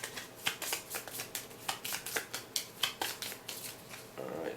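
A deck of cards for the Legendary Encounters Predator board game being shuffled, with a rapid run of crisp riffling bursts close to the mic and no voices.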